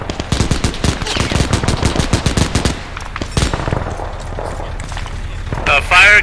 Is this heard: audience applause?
no